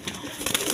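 Rasgolla pigeons at a farm give a brief, close, soft cooing over a breathy background hum.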